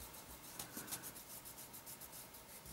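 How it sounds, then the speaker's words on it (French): Pencil marks are erased on a paper pop-up card, a quiet, close scrubbing rub in quick repeated back-and-forth strokes, faint and alone. "Là, j'efface ça."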